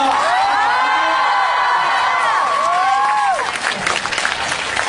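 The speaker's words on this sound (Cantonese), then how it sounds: "最後俾一次最熱烈嘅掌聲，歡呼聲我哋今日嘅主角" A crowd at a Twins 10th anniversary fan party in 2015 claps and cheers loudly, with high shrill screams and whoops riding over steady dense applause that stays strong throughout.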